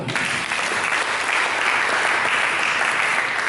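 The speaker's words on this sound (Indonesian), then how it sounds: "Berikan tepuk tangan." A church congregation applauds during a sermon, a dense, sustained wash of many hands clapping together, filling the room evenly from start to finish.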